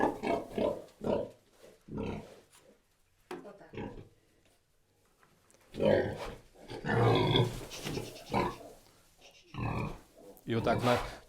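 Piglets grunt and squeal in short bursts close by, with a person talking over and between them.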